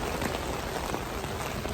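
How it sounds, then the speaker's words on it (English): Heavy pouring rain outdoors near a movie theater, a dense, steady hiss of water hitting the ground, close and continuous, with no talking. "I come out and it's pouring rain right now."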